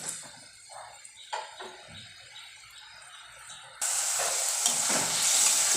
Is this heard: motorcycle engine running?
no